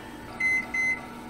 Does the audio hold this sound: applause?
no